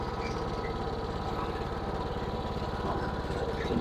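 A lawn aerator's small engine runs steadily at idle, a continuous low chugging drone with no pauses, fairly close.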